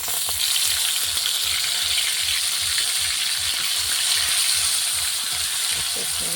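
Spice paste of ground chillies, dried red chilli, turmeric and salt fries in hot oil for a small-fish curry, giving a steady close sizzle with a low rhythmic stirring thump underneath and no talk.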